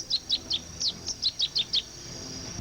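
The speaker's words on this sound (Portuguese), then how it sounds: "Numa área de banhado, quem aparece é o pia-cobra." Masked yellowthroat (pia-cobra) calling in a marsh: a quick run of about ten clear, high, two-note chirps in a steady rhythm, close and distinct over a quiet background.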